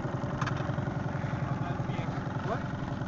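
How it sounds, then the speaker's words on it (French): Outboard boat motor idling after warming up on a family fishing outing, giving a steady low rhythmic putter close by throughout; faint voices may be mixed in. "On va chauffer le moteur."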